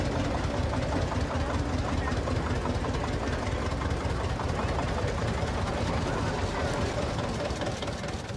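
Old tractor engines chug and knock steadily, close and continuous, with faint voices in the background.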